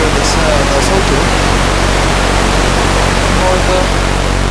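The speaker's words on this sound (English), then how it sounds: "White noise covers all the frequency range, so you cannot hear either the sawtooth" A synthesizer sawtooth wave buried under loud white noise forms a dense, constant hiss that covers the whole clip, with the buzzy tone barely poking through.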